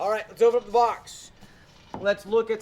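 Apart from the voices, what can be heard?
No everyday noises stand out.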